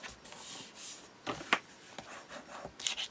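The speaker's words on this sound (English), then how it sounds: "And burnish well." Fabric binding on a mini album is burnished with a firm rubbing stroke, making soft, close scraping and swishing sounds with a few brief sharper rubs and no voices.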